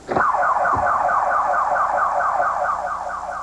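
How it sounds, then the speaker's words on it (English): A 1980s car alarm blares nonstop, a loud, close electronic wail that cycles up and down in fast repeating sweeps, starting abruptly after a thump and holding steady with nobody talking. "Bob has joined the ranks of drivers who've installed car alarms"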